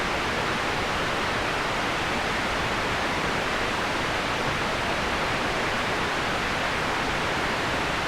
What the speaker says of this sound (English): Pink noise has a lot more low end.